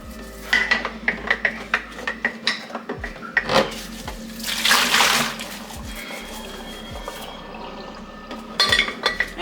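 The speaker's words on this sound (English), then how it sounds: "So now I'm just going in and cleaning my cookie jar" A cookie jar being washed at a kitchen sink: repeated close clinks and knocks of glass or ceramic, with running water splashing and swishing in between, no talk.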